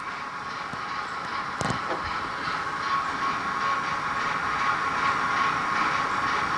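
Steady rumble and hiss of a Bachmann 08 model train locomotive with a stay-alive running along track, continuous and fairly loud, with a brief sharp click partway through.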